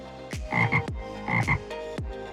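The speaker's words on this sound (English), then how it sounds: "In the backfields of Takenoko Newtown, the Japanese tree frog." Japanese tree frogs croak at night in fields near a new town, a few loud close rasping calls in quick paired bursts with short gaps between, and no voices over them.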